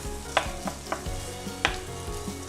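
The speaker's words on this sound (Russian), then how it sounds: "Будем обжаривать до прозрачного состояния" Sliced onion fries in a pan with a low, steady sizzle, broken by a few clacking stirs, under quiet background music.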